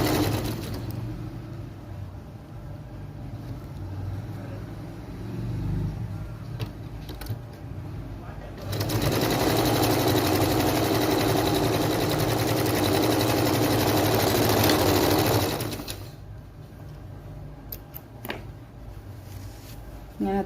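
A sewing machine stitching churidar pants runs in a steady close whir, easing into slower, softer running before and after a long loud fast burst in the middle.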